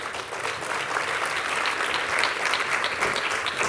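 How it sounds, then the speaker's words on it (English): An audience at an evening architecture talk claps steadily, a dense, even patter of many hands sustained throughout, fairly close and with no voices over it. "So please clap, put your hands together for Jayden."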